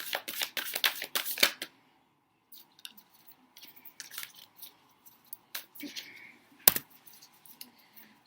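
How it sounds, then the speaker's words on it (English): Tarot cards are shuffled and drawn from a deck in a quick flurry of riffling and slapping, followed by scattered soft card flicks and taps, close and fairly quiet. "We're just going to draw 4 of these and then move straight over to our Moonology deck."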